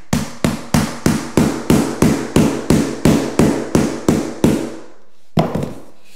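A hammer taps Lifeproof vinyl plank flooring into place: about fourteen loud, evenly spaced knocks close by, then a pause and one last hit.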